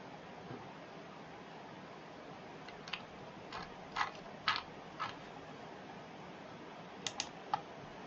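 A search word is typed on a computer keyboard as sparse, faint clicks in short bursts over a low hiss, with no talking.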